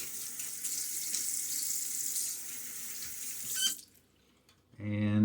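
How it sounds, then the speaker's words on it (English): Water runs from a tap for several seconds during wet shaving with a safety razor, a steady hiss that suddenly stops, then a short splash and gurgle as water is scooped up. "A little splash of water."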